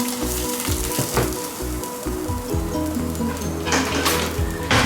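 Lamb mince sizzling and frying in a pan for Greek moussaka, a steady close crackle under a bed of low tonal hum from a kitchen, with a few louder stirring bursts and no talk.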